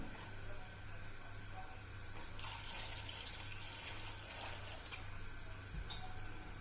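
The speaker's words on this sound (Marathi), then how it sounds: "आता यात टाकूया आपण पाणी" Water runs into a bowl of cut brinjals in a kitchen, a faint steady trickle and splash that swells in the middle, with no talk over it.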